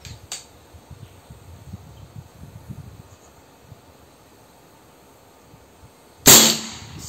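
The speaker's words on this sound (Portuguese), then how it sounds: "Segundo disparo." A single sharp air rifle pellet shot cracks out loudly near the end, after several seconds of quiet low rustling.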